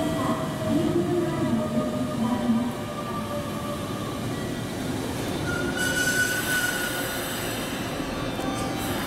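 Meitetsu commuter train pulling into Zengo station during weekday evening rush, wheels squealing in high tones over steady rolling rumble and rail noise, continuous and fairly close throughout.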